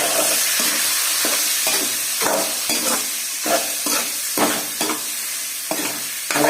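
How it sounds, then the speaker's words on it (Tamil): Chicken curry masala with turmeric sautéing in oil, a loud bubbling sizzle with repeated rhythmic spoon scrapes and stirring knocks through the pan. "நல்லா எண்ணெயிலே ஒரு வதம் வதங்கணும்."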